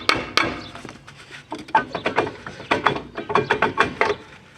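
A car's brake drum being worked loose and pulled off, giving a run of close metallic clanks, scrapes and knocks in irregular bursts that grow busier toward the end.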